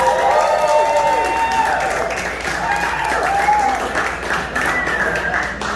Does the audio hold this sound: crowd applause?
yes